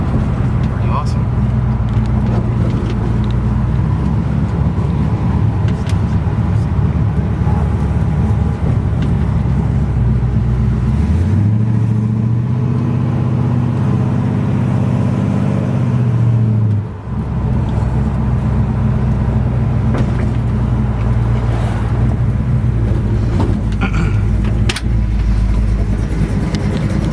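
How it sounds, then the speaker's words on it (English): An old car rolls along a bumpy road with a continuous low rumble of engine and tyres. The engine note briefly rises and settles partway through as the drive goes on smoothly. "Runs real good. Drives like a modern car. Not a squeak, and this road is bumpy."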